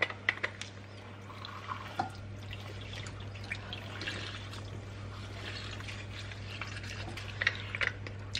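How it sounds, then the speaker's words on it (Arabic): Lemon juice drips and trickles into a container, quiet irregular splashes and droplets close by with no talking. "عصير حامضة"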